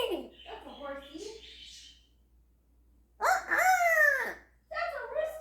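African grey parrot mimicking a rooster's crow, a strained, pitch-swooping call in the middle followed by a shorter squawk, preceded by other vocal sounds.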